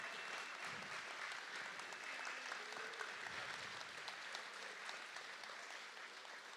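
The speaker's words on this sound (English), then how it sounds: "Let's give them a round of applause." A school audience at an annual carol ceremony claps steadily, a fairly faint, even wash of applause that carries on without pause to the end.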